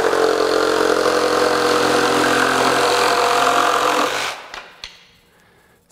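Cordless power tool making a normal cut powered by a Milwaukee M18 REDLITHIUM Forge 6.0 Ah battery: a loud, steady motor whine with rough grinding for about four seconds, then it cuts off, followed by a few faint clicks.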